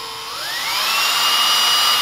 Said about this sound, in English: Just trying to drill a hole in my kitchen table.